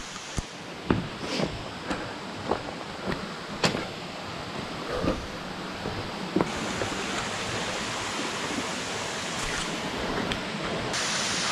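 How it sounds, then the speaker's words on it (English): Small waterfall tucked into a rocky gorge, a steady broadband rush of falling water with scattered sharper splashes and taps early on, then a denser, even roar that continues to the end. "This little waterfall around the corner here."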